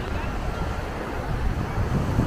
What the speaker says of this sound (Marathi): तर इथे तुम्ही बघू शकता समुद्राच्या लाटा.